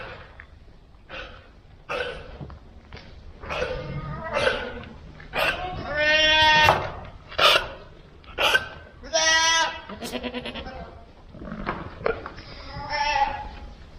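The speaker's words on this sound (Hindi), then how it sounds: "ये कोई पहाड़ी बकरे टाइप हैं ये सब" Mountain-type goats eating dry grass on a farm bleat several times in a row, close and fairly loud, with breathy hiccup-like calls in between.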